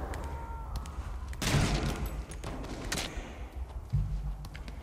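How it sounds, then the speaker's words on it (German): Gunfire in the video game Metal Gear Solid V: a couple of sharp, loud bursts of shots with ringing tails, separated by quieter game ambience and low thuds. "Den hat er einfach umgelegt mit einem Schuss"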